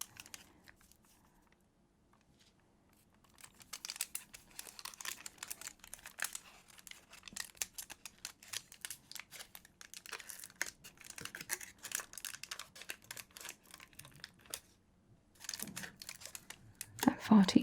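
The foil wrapper of an Animal Kingdom chocolate bar crinkles and rustles close by in quiet, irregular bursts after a near-silent start, and a voice speaks softly now and then.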